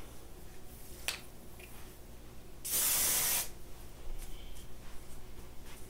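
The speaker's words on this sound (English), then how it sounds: "I'll just spray it with the wig wax and tame it down" A single sustained aerosol spray of wig wax onto a blonde wig hisses for under a second, loud and close, amid quiet handling clicks before and after.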